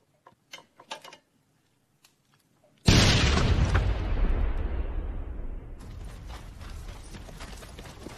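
A film explosion bursts in suddenly after near-silence broken only by faint clicks: one loud, close blast that rumbles and slowly fades over several seconds, with crackling debris trailing off.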